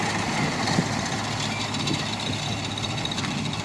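A tractor engine passing through a wheat field during fertilizer top-dressing with a seeder, heard as a steady, broadband mechanical rumble and clatter that holds fairly loud and even throughout, with no voices.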